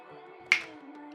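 A single crisp finger snap sounds up close in a quiet room over a low, steady hum.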